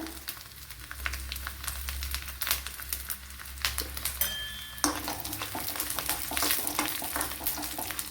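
Copra and dried red chillies fry in a pan for a street-style chickpea curry, giving a steady close crackle and sizzle with stirring scrapes; the sizzle jumps louder about halfway as the chillies go in.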